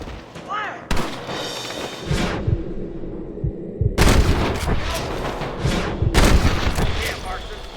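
Gunfire in the Western video game Red Dead Redemption: several sharp, loud shots in bursts at close range, mixed with game music and shouted voices.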